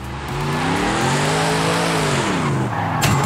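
Car tires squeal and skid in the Forza Horizon 5 racing game as a revving engine rises and falls in pitch, loud and continuous, ending in a short sharp burst.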